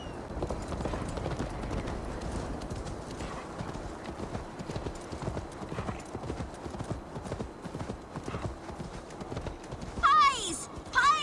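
Horse hooves clip-clop at a steady trot in the Assassin's Creed Valhalla video game, rhythmic and close, with game voices over them and a brief whinny near the end.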